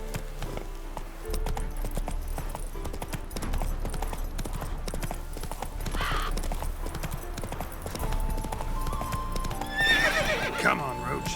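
Roach the horse in The Witcher video game trots with rhythmic clip-clop hoofbeats, then lets out a loud neigh near the end, with game sounds and a voice underneath.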